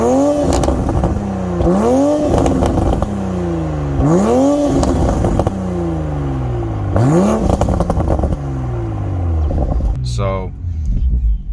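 Toyota Supra engine catching after a push-button start, settling into a steady rumbling idle with repeated rising and falling revs, close and loud, with someone talking over it.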